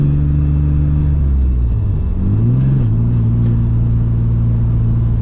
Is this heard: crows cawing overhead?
no